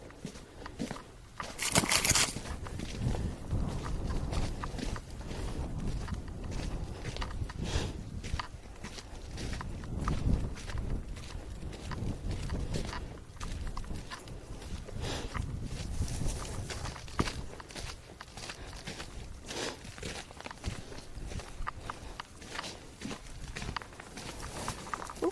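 A horse shifts about close by in a stall, its hooves thudding and shuffling on straw and frozen ground, with rustling and a few sharp knocks throughout.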